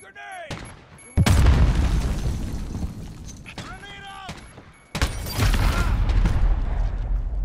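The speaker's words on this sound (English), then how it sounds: "Throw grenade! Grenade up!" Grenade explosions in Call of Duty: Modern Warfare land as two loud, sudden booms a few seconds apart. Each is followed by a long, rumbling debris tail, with game voice chatter in the background.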